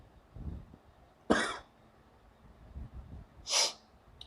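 A man who is feeling unwell coughs twice close to the microphone, giving two sharp, harsh bursts a couple of seconds apart with quiet room noise and light breathing in between.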